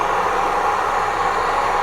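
A portable camping gas burner hisses steadily after water is poured in, a loud, even, close-up rushing noise with no breaks.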